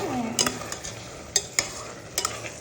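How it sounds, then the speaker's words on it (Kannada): Jaggery syrup boiling in a pan for festival obbattu makes a soft, low bubbling bed with a few sharp pops and stirring clicks at irregular intervals, close and faint, with no talk. "ಈ ಥರ ಕುದೀತಾ ಇದೆ"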